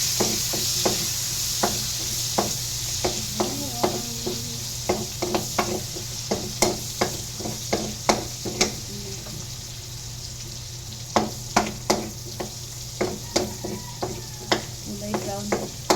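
Garlic sizzles in hot oil in a pan while a utensil stirs and scrapes it, giving sharp knocking clicks in irregular bursts over a steady frying hiss for home dinner cooking.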